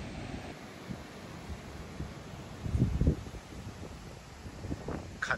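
Wind blows on the Shonan coast, a steady, rough rumble buffeting the microphone with a louder gust midway and smaller gusts near the end, with no voices.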